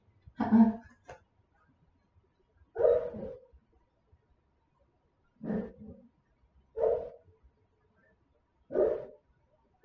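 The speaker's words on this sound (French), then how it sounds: "sais pas si vous entendez les petits bruits, c'est mon chien qui fait un cauchemar." A dog asleep and dreaming makes five short, soft whimpering whines spaced a couple of seconds apart, with quiet pauses between them.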